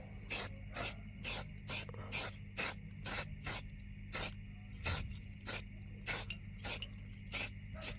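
A spray can lays light coats of paint onto VW fog light grilles in short, evenly spaced hissing bursts, about a dozen in quick rhythm. The bursts are close and fairly quiet, with no talking.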